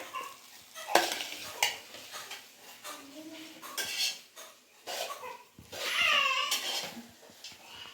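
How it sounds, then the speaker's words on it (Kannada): A metal spoon scrapes and clinks against a pan while onions are stirred for shavige upma, irregular knocks and scrapes with soft frying underneath, close and fairly quiet. "ನೀವು ತಳದಿಂದ ಈರುಳ್ಳಿನ ಎತ್ತಿ ಈ ರೀತಿ ಮಿಕ್ಸ್ ಮಾಡ್ಕೊಂಬಿಡಿ"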